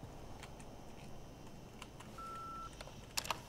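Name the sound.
phone keypad beeps in the video game Far Cry 5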